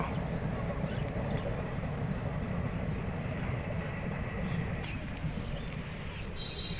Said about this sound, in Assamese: ইকো পাৰ্কৰ কাষেদি ৰেল যোৱা এক মনোৰম দৃশ্য